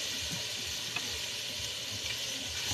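Stew ingredients saute in a pan, with a soft, steady sizzle and faint crackles and occasional stirring noise, fairly quiet throughout.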